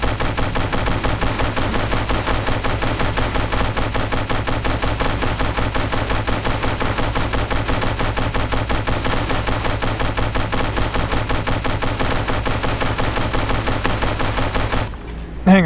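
Sustained rapid automatic gunfire in the video game From The Depths, a dense, loud, unbroken stream of shots lasting about fifteen seconds before cutting off abruptly.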